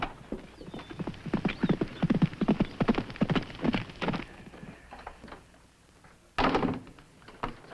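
A horse's hooves clip-clop in an uneven, close-up rhythm in a TV western scene. The steps thin out and fade, then a final burst of heavy thuds follows.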